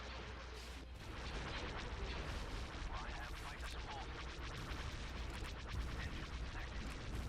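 Starship batteries firing in the space-battle video game Star Wars Republic at War, a dense, steady barrage of overlapping booms and blasts that swells after the first second and holds loud and continuous.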